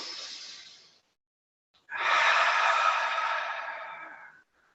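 Slow, audible breaths during a gentle yoga core exercise: a short trailing exhale, a pause of silence, then a long airy breath sustained for nearly three seconds, close and clear with no talking.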